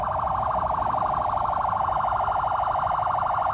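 An ambulance siren wails in traffic in Kenya, a loud, steady, rapidly warbling tone repeating without a break and heard alone.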